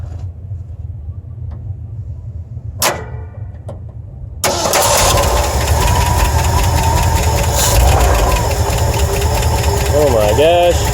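A 1973 Ford truck engine, primed with squirts of fuel, cranks with a few short clicks and bursts, then roars to life and keeps running loud and rough, with a voice briefly heard near the start.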